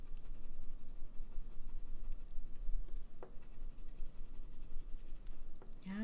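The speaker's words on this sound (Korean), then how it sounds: "약간 눌러서 칠해볼게요." A pencil is pressed lightly onto paper while coloring, producing a soft continuous scratchy shading sound with a few sharper strokes, close and quiet with no talking.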